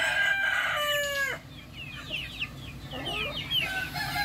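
A rooster crows loudly up close, followed by chickens clucking in short, scattered bursts.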